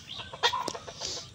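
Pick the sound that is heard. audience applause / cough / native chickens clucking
native chickens clucking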